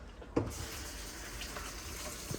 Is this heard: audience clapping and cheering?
no